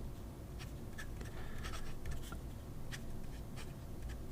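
A 742 fountain pen nib writing on paper, soft scratchy strokes in short bursts, close and quiet over a low background hum.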